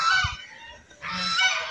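Two loud, close honks from geese, one right after the other with a brief pause between.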